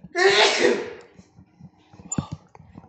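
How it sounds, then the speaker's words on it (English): One loud, breathy sneeze bursts out close to the mic, followed by quiet rustling and a few soft mouth and handling sounds. "I'm going to sneeze."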